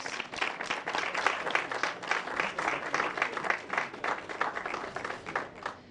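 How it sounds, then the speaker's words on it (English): Applause for Charles Abugri at the Star Ghana Foundation launch ceremony, a close, lively burst of many hands clapping in uneven pulses throughout. "Give Charles a round of applause."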